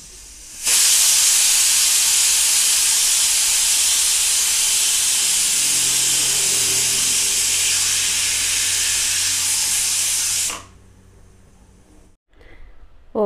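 A pressure cooker cooking dal on a high flame lets off a loud, sustained steam whistle lasting about ten seconds, then it cuts off abruptly, leaving quiet kitchen background.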